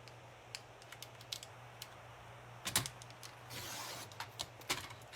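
Cardstock for a Thanksgiving card is cut in a quiet room: faint scattered clicks, then a brief soft scraping swipe partway through, followed by a few more light taps.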